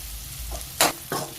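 Onions frying with curry leaves in a hot pan, a low sizzle with two short bursts of stirring scrapes, no voices.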